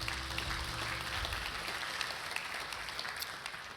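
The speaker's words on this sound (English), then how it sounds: "that deserves a round of applause" A church congregation gives a round of applause, faint and distant, a soft continuous patter of many hands without a clear voice on top.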